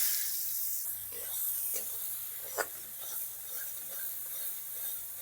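Chopped onion goes into hot oil with bay leaf, cumin, cinnamon, cloves and cardamom for a rohu fish kalia, giving a soft sizzle with scraping stirring sounds and one sharp clatter midway.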